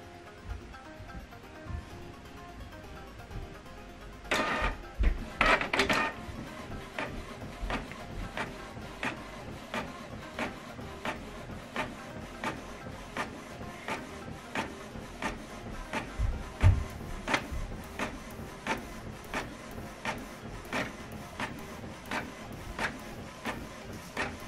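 A printer runs an automatic double-sided print job, feeding paper with a clunk and whir near the start, then printing with a steady rapid series of mechanical ticks and shuttles.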